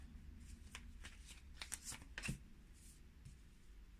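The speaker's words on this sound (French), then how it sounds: "on va aller chercher les cartes" Tarot cards are shuffled and drawn close up, a quiet run of soft riffling flutters and papery slaps with a few sharper card snaps toward the end.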